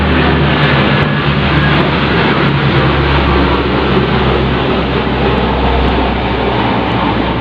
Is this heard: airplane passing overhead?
yes